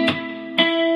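Electric guitar playing the second part of measure 29 of a song, two distinct plucked attacks each left to ring with bright sustained harmonics, close and unaccompanied.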